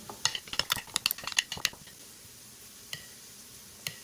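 Fried rice is stirred in a pan with a string of quick, sharp metallic spatula clicks and scrapes, then a pause broken by two isolated taps, close and fairly quiet.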